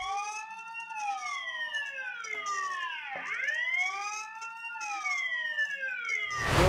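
An electronic siren from a Tenda CT6 outdoor Wi-Fi security camera wails up and down in repeated sweeping tones, loud and close, ending with a sharp burst.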